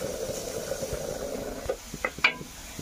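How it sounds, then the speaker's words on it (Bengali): Onion and garlic frying in a pan for a fish bharta, a soft steady sizzle with a few sharper clinks of stirring toward the end. "পরে আবার পেঁয়াজ রসুন ভেজে নিতেছি"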